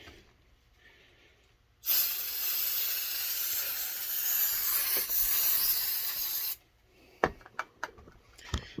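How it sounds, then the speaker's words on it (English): A close, loud continuous hiss of brake parts cleaner sprayed from an aerosol can during a Mopar 360 cylinder head installation, lasting several seconds before cutting off into a few sharp clicks and taps. "A little quick little blast with brake parts cleaner"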